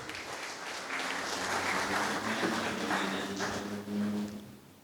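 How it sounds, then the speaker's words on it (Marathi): An indoor audience at a book launch ceremony applauds Father John Fergus, a moderate, sustained patter of clapping that swells and then fades, with a faint low hum beneath. "आपण फादर जॉन फर्गुससाठी पुन्हा एकदा जोरदार टाळ्या वाजवूया"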